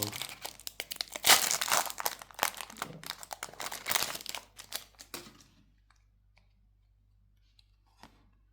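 Crinkling and tearing of foil wrappers as TMNT trading card booster packs are opened, a dense rustle for about five seconds close to the microphone, then near silence with a single faint tap.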